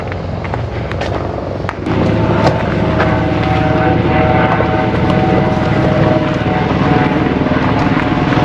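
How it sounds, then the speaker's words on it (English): A helicopter passes overhead on a ride between Toronto and Niagara Falls, a steady, loud rotor and engine drone that swells after the first couple of seconds and holds, with no talking. "more chopper activity here than in Toronto"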